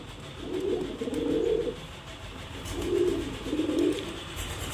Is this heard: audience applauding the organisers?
no